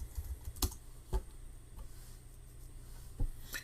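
Someone types on a computer keyboard in sparse, quiet clicks, a handful of separate keystrokes spaced irregularly against a faint low background hum.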